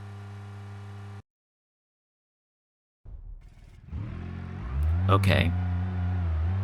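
A car in BeamNG.drive revs and accelerates on dirt roads, its engine note rising after a stretch of silence and a brief steady tone, with a voice speaking briefly over it.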